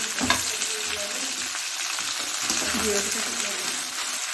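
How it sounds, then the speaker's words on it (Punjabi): A cauliflower and carrot pickle is stirred and mixed, producing a dense, continuous hiss with soft scraping and clinks of the utensil throughout. "ਲੋ ਹੁਣ ਇਹਨੂੰ ਸਾਰੇ ਚਾਰ ਨੂੰ ਇਸ ਤਰ੍ਹਾਂ ਕਰ ਦੇਣਾ ਜੀ ਮਿਕਸ"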